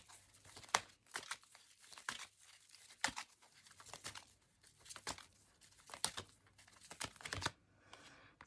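Tarot cards are shuffled and drawn in a quiet room, a series of crisp papery riffles and snaps that recur roughly every second, close and fairly soft, with no voices.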